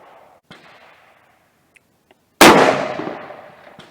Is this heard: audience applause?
no